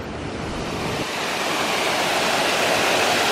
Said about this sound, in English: That's some serious water coming over.